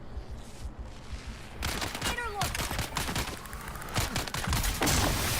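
Rapid gunfire crackles in the game Dune, starting quietly and then breaking into dense, loud volleys of shots and bursts, with game effects layered in.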